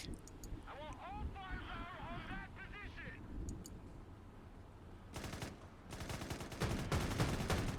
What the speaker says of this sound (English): let's try to put some suppressive fire into that building